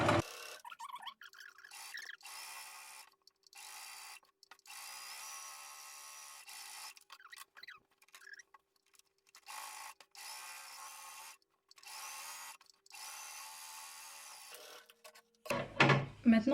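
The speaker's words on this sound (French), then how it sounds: "Et je vais laisser avancer la machine pour faire ma couture." A sewing machine runs a straight seam in fabric, with several sustained bursts of steady mechanical whirring broken by short pauses, fairly close and moderately loud, ending with a brief handling noise.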